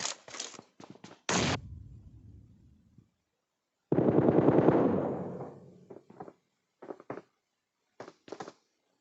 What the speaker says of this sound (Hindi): मैं उसको सिर्फ ऐसे ही डराने के लिए थोड़ा प्री फायर देता हूँ